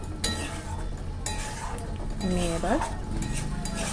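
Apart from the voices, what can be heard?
stirring octopus curry with garam masala in pan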